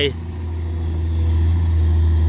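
A Komatsu PC200-8 excavator's engine runs while it levels ground, giving a steady, loud low-pitched drone that builds slightly and holds without breaks.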